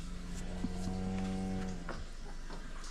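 A single cow lets out a drawn-out moo close by, its tone holding steady for about a second amid a quiet outdoor farm background.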